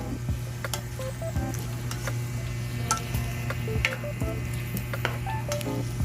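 Jackfruit simmering in coconut milk with shrimp and crab gets stirred in a pot, a soft steady bubbling and sizzle under intermittent light scrapes and ticks of the utensil, close and without talk.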